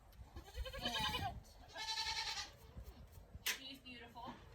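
Bleating from a dairy goat, a homegrown doe and top milk producer on a small farm, comes in two drawn-out harmonic calls of about a second each, followed by a shorter third cry, fairly close with soft background noise.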